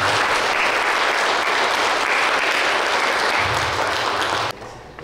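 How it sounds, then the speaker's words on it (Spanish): Loud, dense applause from a church congregation celebrating a girl's quinceañera, sustained and even for several seconds before cutting off abruptly near the end. "Otro fuerte aplauso."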